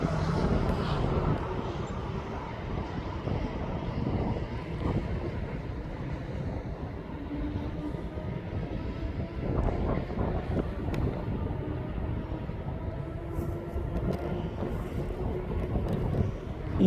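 A departing airliner at East Midlands Airport climbs out and swings round in a turn on its way to Dublin, giving a steady, broad engine roar heard from the ground, mixed with wind buffeting on the microphone.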